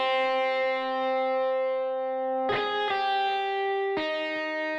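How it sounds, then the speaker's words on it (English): A sustained instrument tone with a long, washy reverb tail, a few new notes struck and ringing out into spacious echo. "I just want to hear what the reverb sounds like in context with this instrument"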